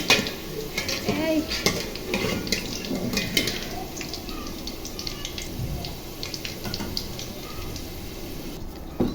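Large potato pieces fry in hot oil in a home kitchen pan, giving a steady close sizzle with repeated scraping stirs and light clinks of a utensil against the pan throughout.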